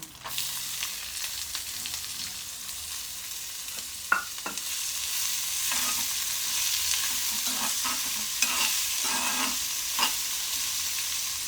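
Sliced onions frying in oil with dried red chillies for masala dosa filling, a continuous close sizzle broken by a few sharp clinks and scrapes of the spatula against the pan.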